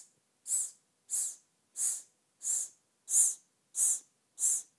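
Seven evenly spaced, sharp nasal inhalations during a singing breathing exercise, close and airy, each about half a second long, alone without talk.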